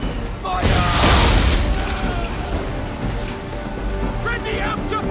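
Ship cannons firing during a naval battle in Assassin's Creed III, a heavy booming volley followed by a rumbling, rain-like wash of debris and sea noise, with shouted voices in the background.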